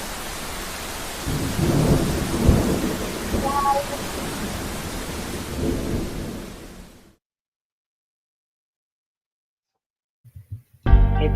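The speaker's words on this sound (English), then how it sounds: "Actually really raining here." Heavy rain with rumbling thunder pours steadily for about seven seconds, loud and close, then cuts to silence before a few brief thumps and a burst of noise return at the end.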